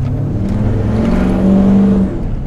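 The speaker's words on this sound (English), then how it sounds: "we're going to go now for a little test drive" A diesel pickup truck pulls away on a test drive, its steady, close engine drone swelling briefly in the middle and running continuously without any talk.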